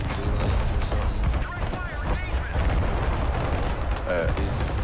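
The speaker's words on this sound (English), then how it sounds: "see this artillery, I'm gonna fire over there" Artillery firing in the video game Broken Arrow: rumbling booms and distant gunfire roll on continuously under talk from players.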